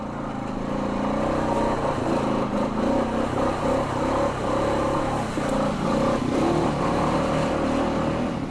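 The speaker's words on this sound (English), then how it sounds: "when you get into the mud, simply upshift, and away you go." A Honda Rubicon 520 ATV engine drones steadily and close while upshifting through mud on a trail, its pitch rising and dipping slightly as the gears change, with no voices over it.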